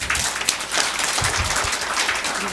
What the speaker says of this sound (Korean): 감사 박수 부탁드립니다.